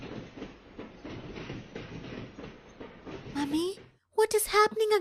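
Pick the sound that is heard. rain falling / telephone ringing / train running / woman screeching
train running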